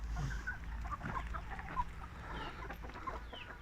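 Rooster clucks and low calls come in short bursts close by, with a few faint bird chirps in the background and no talking.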